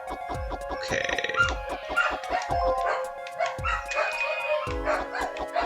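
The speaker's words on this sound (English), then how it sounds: "Sorry if you hear puppies in the background" Puppies bark and yip in a room, a string of short, sharp yaps and whimpers coming in uneven bursts, fairly close and loud, with layered game music and sound effects running underneath.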